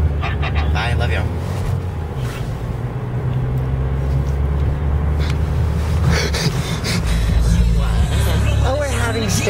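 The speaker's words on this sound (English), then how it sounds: "I'm driving, and it's hard to drive stick shift and talk in this car." A manual stick-shift car is driven, its engine and road noise a loud, continuous close rumble inside the cabin, with voices talking over it.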